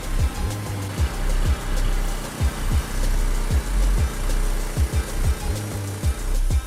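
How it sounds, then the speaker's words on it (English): A homemade sawmill built from a frame, an engine and a blade runs steadily, its mid-pitched engine idling loud and close with a continuous droning rumble and regular low pulses, no voices over it. "Just a frame, an engine, and a blade, yet it runs like a dream."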